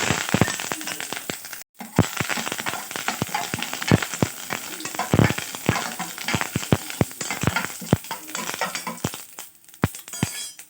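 Mustard seeds crackle in hot oil in a pan, a dense run of sharp close pops and spits over a continuous sizzle, with a brief gap near the start.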